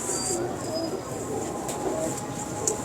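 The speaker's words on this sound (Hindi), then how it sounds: "इतने शानदार कबूतर हैं इनके" Champion pigeons at the Nishtar loft in Lahore cooing softly amid a steady hum of birds and background noise, with people talking nearby.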